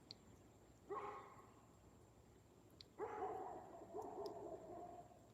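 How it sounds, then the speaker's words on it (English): Dogs barking outdoors near a tree line, two bursts of barking a couple of seconds apart at moderate distance, over a faint steady background with a few small clicks. "If the dogs would shut up, you can hear them walking through the leaves."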